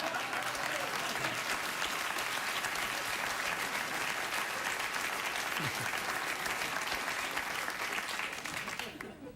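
Studio audience applause on a late-night talk show, a sustained and even wash of clapping from a large crowd, heard fairly softly and tapering only slightly at the very end.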